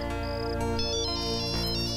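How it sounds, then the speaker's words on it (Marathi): A phone ringtone plays a bright electronic melody of short repeated tones, loud and close, ringing on its own with no voices over it. "अरे आता कोणाचा फोन?"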